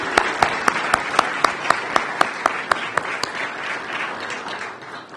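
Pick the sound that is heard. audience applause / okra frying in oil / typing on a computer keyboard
audience applause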